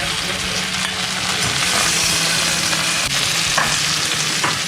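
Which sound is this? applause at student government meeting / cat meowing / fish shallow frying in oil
fish shallow frying in oil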